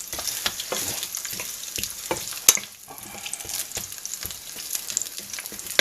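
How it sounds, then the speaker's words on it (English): Onions fry in a pan for a takeaway-style king prawn curry, crackling with a lively close sizzle broken by repeated scraping stirs and a sharp clink of the utensil against the pan. "So cut the onions down so they're all translucent."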